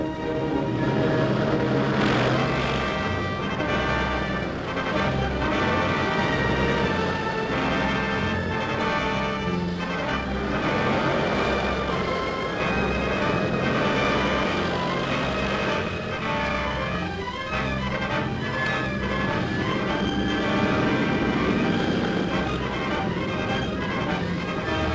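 Squadrons of WWII propeller aircraft fly out toward the front over Western Europe, a steady loud drone of many engines throbbing together for the whole span, with no speech.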